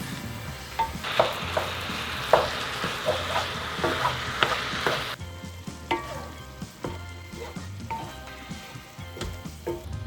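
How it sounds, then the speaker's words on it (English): Ground beef browning over medium-high heat in a pan, a steady close sizzle broken by repeated scraping and stirring strokes; the frying hiss drops noticeably about halfway through. "So over medium-high heat, brown your ground beef."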